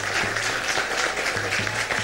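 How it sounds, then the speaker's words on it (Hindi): Studio audience applause on a Pakistani morning TV show, a dense steady wash of clapping filling the clip, with brief low tonal bursts of background music or voice underneath. "तालियां।"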